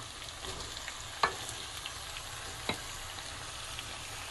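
Tomatoes go into a hot pan with eggplant and potato curry over high heat, giving a faint, steady sizzle with a couple of sharp clicks from utensils.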